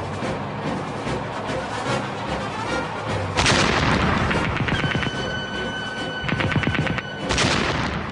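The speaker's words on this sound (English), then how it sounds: "Finally, they spotted the enemy, halted, and opened fire." A World War I German A7V tank opens fire in a battle scene: heavy booms and rattling machine-gun bursts crowd together, loud and close, over a constant rumbling background.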